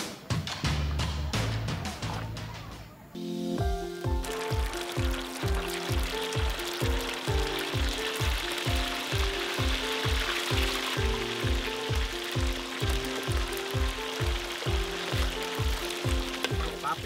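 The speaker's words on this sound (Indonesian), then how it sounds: "Sudah bersih begini, langsung digoreng." Thin strips of papikau meat frying in a hot pan, a dense steady sizzle with crackling spatter that starts partway in and continues loudly to the end.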